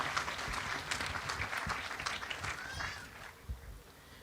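An audience claps at a Hawaiian hula event, a dense, fairly distant patter of many hands that thins out and carries on without speech.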